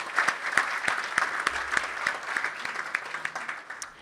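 A chamber of commerce awards audience applauds an administrator at a 2023 ceremony, a lively burst of clapping with sharp individual claps standing out, fading slightly near the end.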